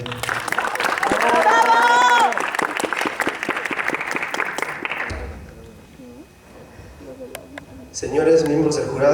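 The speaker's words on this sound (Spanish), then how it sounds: "Fuerte las palmas para el compañero" An audience at an engineering congress gives a presenter strong applause, loud dense clapping for about five seconds that fades out, followed by a quieter stretch with voices and noises near the end.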